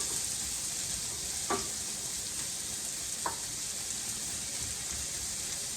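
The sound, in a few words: sautéing ground meat in a skillet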